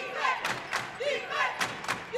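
The visiting Hazleton crowd at a women's college basketball playoff game chants defense in a rhythmic pattern of paired stomps and shouts, with a commentator talking over it.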